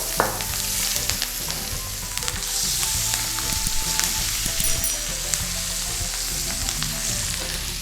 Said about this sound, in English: But stir so it fries and releases the curry flavor.